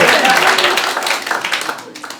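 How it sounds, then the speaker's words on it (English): Audience applause and clapping at a stand-up comedy show, a dense steady patter of many hands filling the room, fairly loud and tapering slightly toward the end. "I didn't even expect that applause break so soon"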